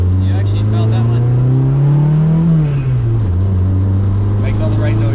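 Turbo Honda car accelerates hard from inside the cabin, its engine note climbing steadily, briefly dipping at a gear change, then pulling again, loud and droning, with a voice talking under it.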